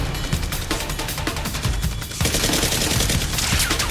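Dense rapid gunfire in a Nerf gun fight in an abandoned neighborhood, loud continuous bursts of overlapping shots with no pauses.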